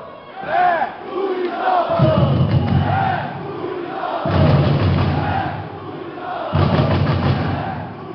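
Stadium crowd of Santos supporters from the Torcida Jovem roaring and chanting in loud, full waves that swell, ease and surge again across the stretch, with no single voice standing out.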